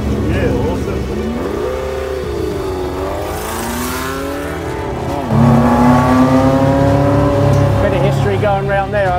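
A Brabham BT19 race car engine revving up close in Adelaide, climbing and dipping through the revs, then rising again in a louder, harsher burst in the second half.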